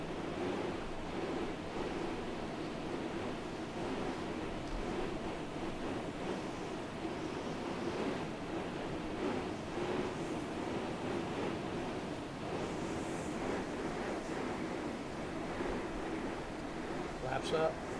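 Continuous roaring wind in Microsoft Flight Simulator, even and unbroken for the whole stretch, like a steady gale with a low rumbling undertone.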